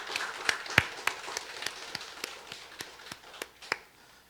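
Scattered hand claps from a church congregation during a Sunday worship service, a dozen or so sharp, irregular claps spread over a few seconds, fairly faint and thin rather than a full ovation.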